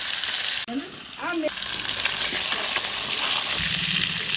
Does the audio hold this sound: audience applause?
no